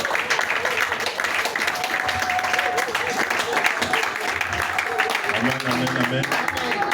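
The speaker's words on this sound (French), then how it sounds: "Donc acclamez le Seigneur pour vous-même." Church congregation at a praise and worship service applauding and cheering, a dense steady wash of clapping and voices throughout, with music or singing underneath.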